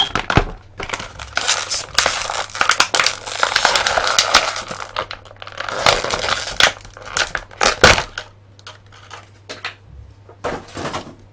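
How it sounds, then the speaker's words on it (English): Plastic bindings are pulled and unravelled from action figure packaging, giving close, loud crinkling and crunching plastic in irregular bursts with sharp snaps and quieter pauses between them. "I'm striving to unravel these plastic bindings that keep him relegated to his packaging."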